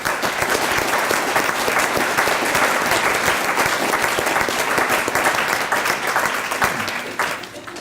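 An audience applauds guest speakers at a higher-education scholarship event, a dense, sustained burst of many hands clapping that holds steady and tapers off near the end.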